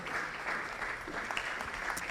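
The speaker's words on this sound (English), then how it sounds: "Please, let's clap till she gets here." Steady applause from a conference audience at an agribusiness finance event, sustained clapping heard from a distance, fairly faint and continuous without talk over it.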